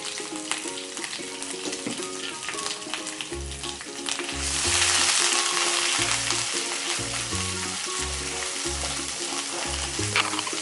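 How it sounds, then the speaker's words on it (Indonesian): Steady crackling sizzle of chili spice paste stir-frying in a hot pan, loud and close, with the hiss swelling midway as more goes in, over rhythmic background music. "Kita tumis sampai habis."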